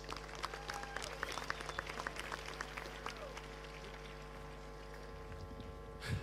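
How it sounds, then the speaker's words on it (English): Crowd applause at the opening ceremony of a high school track and field championship, a steady spread of clapping held at moderate distance under the hum of a large venue, with a brief louder swell at the very end. "Round of applause."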